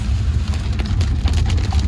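Heavy cyclone rain pours down in a dense, continuous roar of drops hitting the surfaces close by, with no voices over it.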